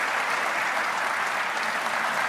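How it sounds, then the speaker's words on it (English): A tech conference audience at an embedded device hacking talk claps to welcome the presenter. The applause is a dense, even roar with no pauses and no voices on top. "Let's give Felipe a big round of applause."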